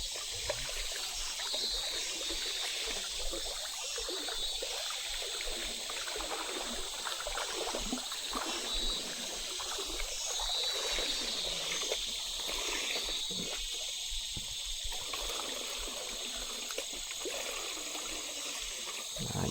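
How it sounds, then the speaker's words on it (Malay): Water trickles and streams steadily into a plastic fish trap being filled at an upstream river in the forest, a continuous gurgling flow with broad hiss and no talking. "Isi air sampai penuh."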